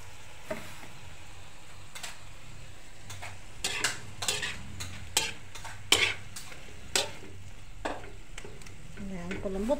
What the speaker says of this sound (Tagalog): Lagyan natin ng konting sabaw.